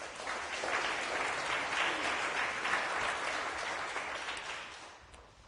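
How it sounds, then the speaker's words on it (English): An audience at a Brighton & Hove gathering applauds award winners: full, dense clapping swells quickly, holds strong for several seconds, then tapers off toward the end. "So a round of applause for them too."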